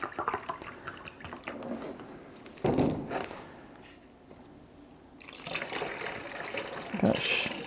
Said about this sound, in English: Then I'm going to take some distilled water and put it in the cup that I used to wash out the extra vegetable glycerin